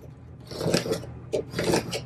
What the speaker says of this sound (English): I'm going to use the scraper, and it's really good to scrape the back and also the front